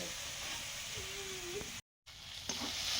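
Spiced masala for a crab curry frying in a pan, a steady close sizzle with some stirring, cut by a brief dropout and followed by a clack of a utensil.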